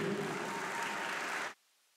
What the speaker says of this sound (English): I want you to extend a round of applause to them